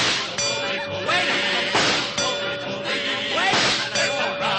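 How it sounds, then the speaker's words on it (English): A metal target bell clangs and dings repeatedly in an old time radio comedy sound effect, bright ringing strikes overlapping with a steady tone and lingering resonance. "Listen to the target ring."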